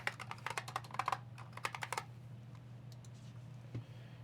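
Rapid keystrokes rattle on a computer keyboard as a new name is typed, a quick burst of clicks for about two seconds followed by a few scattered taps, faint and close.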